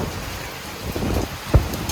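Hail and rain pelt down during a storm in Delhi, a steady dense patter of ice and drops with one sharper thud of impact near the end, no talking.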